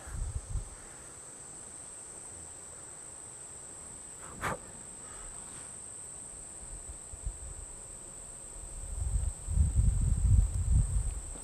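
Flies and other insects buzzing around honey on beehive frames outdoors, a thin constant high drone with a few louder nearby buzzes passing close toward the end.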